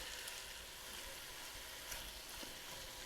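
Steady broadband sizzling of chicken frying in a hot cast iron skillet, continuous and fairly close, with no talking.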